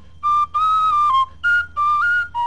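Tin whistle melody from a video game score, a bright solo line of short held notes separated by brief gaps, clear and up front over a faint low hum, no voices.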